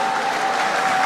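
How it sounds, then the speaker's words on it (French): A brief burst of crowd applause at a large public gathering honouring a province, a dense, continuous clapping wash with a steady tone running underneath. "Est-ce qu'on peut bien applaudir pour la Grande Orientale?"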